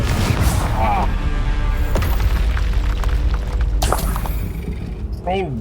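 Confringo fire-blast spell explosions in the Hogwarts Legacy video game, a loud continuous barrage of booming blasts and crackling impacts with a few sharp bangs, under game effects and a voice.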